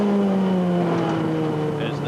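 White BMW touring cars with 2.3-litre engines race in a 1988 British Touring Car Championship round, their engines a loud, steady drone as they pass under race commentary.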